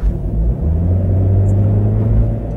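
Honda CR-Z hybrid coupe engine revving, a loud, close, low rumbling drone that holds steady with a slight rise and fall through the short stretch.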